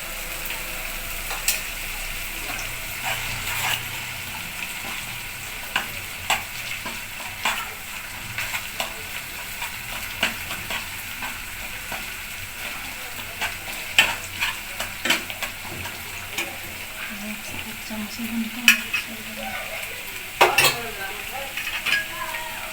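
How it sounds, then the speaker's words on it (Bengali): Cashew paste fries with ginger and garlic for a restaurant-style chicken roast, sizzling steadily while a spoon scrapes the pan in frequent clicks and knocks, close and continuous. "এবার দিলাম কাজু বাদাম বাটা"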